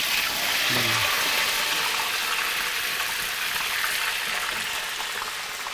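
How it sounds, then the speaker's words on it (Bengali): Potatoes frying in hot oil for kacchi biryani give a steady, loud, broadband sizzling hiss that runs unbroken, with a brief faint voice near the start. "এবার আমি আলুটাকে ফ্রাই করব এখানে আলুটা দিয়ে দেব"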